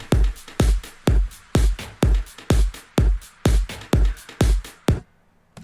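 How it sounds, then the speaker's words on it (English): A loud electronic dance drum beat made in FL Studio pounds a steady four-on-the-floor kick with claps and crisp percussion layered on top, ending abruptly after about five seconds. "So altogether, the drums sound like this."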